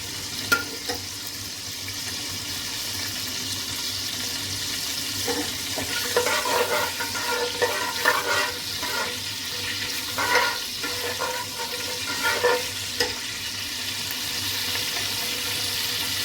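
Whole spices fry in hot oil for chicken pulao, a continuous close sizzle with bursts of crackling pops that rise and fall irregularly, and no voices.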